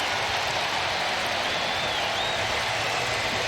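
Stadium crowd at a preseason NFL football game between the Washington Commanders and New England Patriots, cheering in a steady, dense roar of broadband noise that holds without letup for several seconds, with no clear voices standing out.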